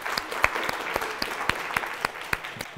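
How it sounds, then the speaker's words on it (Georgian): Quiz show studio audience breaks into lively applause, a dense run of close, crisp handclaps with a few louder individual claps standing out. "აპლოდისმენტები"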